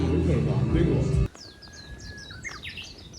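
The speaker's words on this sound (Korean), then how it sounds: "이 새소리." Birds chirp and twitter near a holiday lodging on Jeju Island, with short scattered calls and a thin whistled note, following a burst of people talking that cuts off abruptly.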